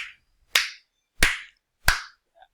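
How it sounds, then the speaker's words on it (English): Three loud, sharp hand claps ring out alone at an even, slow pace, each followed by a short reverberant tail, with a faint fourth tap at the end. "I don't know if you can hear that clapping"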